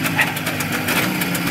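Jawa 638 motorcycle engine idling steadily nearby, a continuous even mechanical throb with no talk over it.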